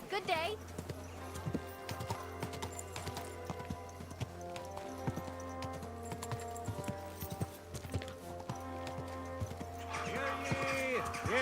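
A horse's hooves clip-clop at a steady walking rhythm in the video game Kingdom Come: Deliverance 2, mixed with game music and a voice talking over the top.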